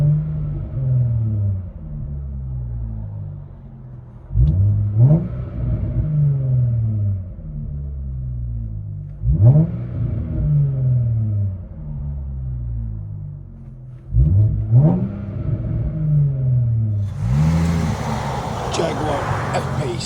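Deep revving from a 2018 Jaguar F-Pace Type S supercharged 3.0L engine with a muffler delete, close by, surging up in pitch about every five seconds and settling back to a rumbling idle between revs.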